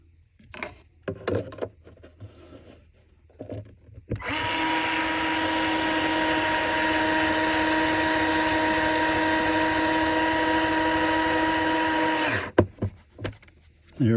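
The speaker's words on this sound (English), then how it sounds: "I'm going to drill my hole, and then I'm going to put my first screw in." A power drill runs steadily for about eight seconds, drilling a hole and driving a screw into a 3D-printed rail for a Plano 3700 storage rack, with a loud, even whine. Quieter handling noises come before and after it.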